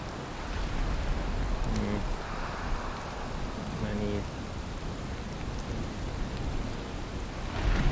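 Steady rain falls in the Valheim video game, a broad continuous hiss with a low rumble like distant thunder, while voices talk faintly at times beneath it.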